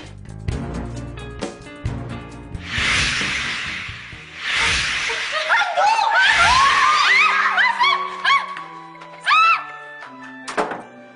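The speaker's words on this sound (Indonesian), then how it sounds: "Itu cewek ngapain teriak-teriak?" A woman screams in loud, strained bursts in a nearby room, mixed with thuds and sharp hissing noises, then giving way to rising and falling tonal sounds and scattered knocks.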